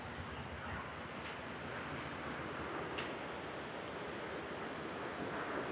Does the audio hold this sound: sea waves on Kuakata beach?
yes